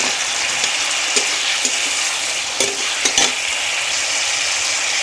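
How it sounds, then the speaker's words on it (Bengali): Fried potatoes with cumin powder and green chilli are stirred in a hot pan: a loud, steady sizzle with a few sharp scraping clicks of the spoon. "দিয়ে দিচ্ছি 1 চামচ জিরার গুঁড়ো, দিয়ে ভালো করে নাড়াচাড়া করে দেবো"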